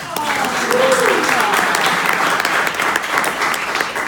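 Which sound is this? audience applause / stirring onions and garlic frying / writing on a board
audience applause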